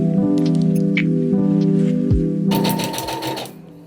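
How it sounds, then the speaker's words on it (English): A sewing machine gathering ruffles runs with a steady droning hum, then shifts into a brighter, busier rattle before slowing near the end. "just running my sewing machine, and it's already doing the ruffling for me"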